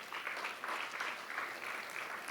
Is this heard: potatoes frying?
no